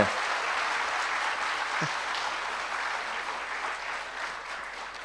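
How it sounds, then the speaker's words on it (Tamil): Sustained hall-filling applause from an audience at a Tamil motivational speech, a soft, steady wash of many clapping hands that carries evenly throughout, fairly distant and moderately quiet. "மீண்டும் ஒரு அரங்கம் நிறைந்த கைத்தட்டல் அன்பு ஐயாவுக்கு"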